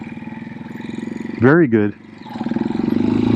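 A Janus Halcyon 250 motorcycle putters at low speed in a tight circle, its single-cylinder engine thumping rhythmically up close, with a brief spoken remark partway through.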